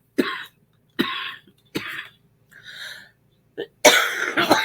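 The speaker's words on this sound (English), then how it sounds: "This cough is just hanging on." Several harsh coughs from one person burst out in a quick series, close and loud, with short pauses between them and a heavier, rougher fit at the end.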